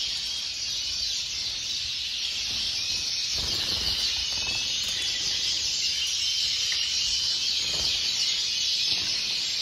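A large room of Gloster canary chicks fills with a dense, continuous high chirping chorus, with occasional soft wing flutters and bumps in the cages nearby.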